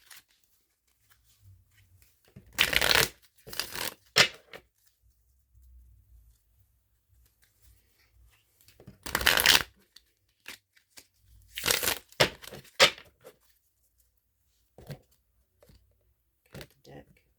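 Several short bursts of tarot cards being shuffled and riffled by hand, crisp close rustling flurries separated by quiet gaps, with soft handling noises in between.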